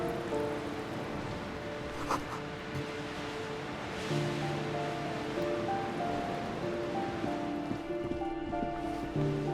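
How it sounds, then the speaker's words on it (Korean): Waves breaking on a shore in the video game Disco Elysium, a steady washing surf that runs the whole time, layered under sustained musical tones with a slight swell near the middle. "어둠 속에서 파도가 부서진다."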